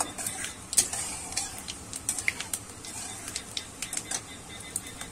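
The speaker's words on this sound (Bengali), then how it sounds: "ফোড়নটা কিন্তু আমি এবার একটু নেড়ে দিচ্ছি।" Whole five-spice tempering (panch phoron) is stirred in a pan, giving quick irregular clicks and taps of a spoon against metal over a soft frying hiss, close and moderately quiet, with no talk.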